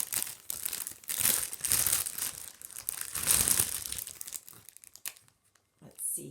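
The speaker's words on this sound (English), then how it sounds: "Sorry again for the crinkling." Plastic packaging from a kit crinkles and rustles loudly and close up in irregular bursts, dying away near the end before one last brief rustle.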